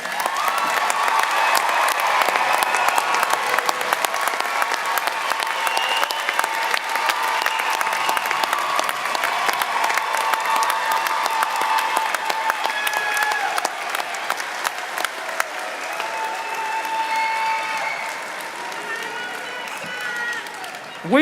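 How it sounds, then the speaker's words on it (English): Audience at a spring university commencement applauds the graduates, sustained dense clapping with some cheering that runs steadily for about twenty seconds before tapering slightly. "How about one more round of applause for our graduates?"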